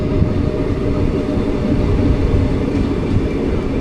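The 16344 Amrita Express rolls into Changanassery station, a loud, continuous low rumble of wheels and carriages heard from on board, with faint rhythmic rail clatter and no talking.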